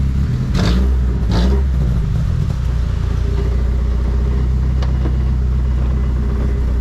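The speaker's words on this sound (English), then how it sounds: "I can hear it leaking pretty bad. It's more like a air whistling noise than actual exhaust note." Ford Ranger engine with a badly leaking exhaust runs nearby, two quick revs early on, then settles into a steady rough rumble with a hissy edge; no talk.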